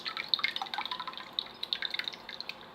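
Homemade kefir poured into a non-aluminium strainer gives a quiet, steady patter of small drips and trickling liquid, faint and close.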